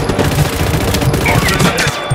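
Dense, continuous automatic gunfire in Just Cause 3, rapid bursts packed together at close range and loud throughout, with faint game voices mixed underneath.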